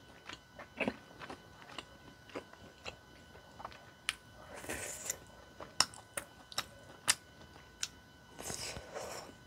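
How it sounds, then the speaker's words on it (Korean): Tteokbokki rice cakes dipped in broth and eaten up close, with soft chewing and sharp wet bites and clicks in an irregular rhythm over a quiet background, no talking. "한번 떡볶이부터 먹어볼게요."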